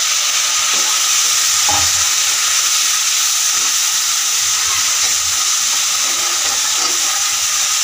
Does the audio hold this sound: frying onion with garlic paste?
yes